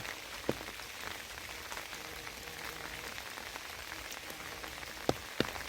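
Steady light rain falls in the open on a spring hillside of azaleas, a soft continuous patter with a few sharper drops landing close by.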